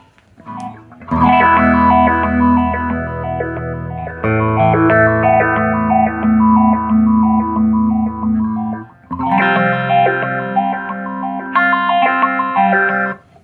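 Electric guitar through two Spaceman Explorer phaser pedals together, sustained distorted chords with a swirling, sweeping, shimmering tone, a brief pause near the end before resuming.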